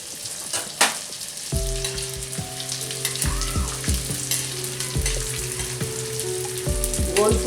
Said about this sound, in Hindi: गोंद को धीमी आंच पर भूनेंगे।